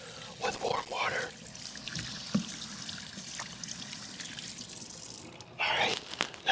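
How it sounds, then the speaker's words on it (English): Warm tap water running over hands being rinsed after soaping, a close trickling and splashing stream with drips and small clatters, steady throughout. "I'm rinsing them off with warm water."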